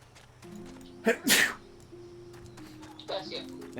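A Final Fantasy XIV game character lets out a single sharp sneeze in two quick bursts, with a soft intake just before it, over quiet background game music.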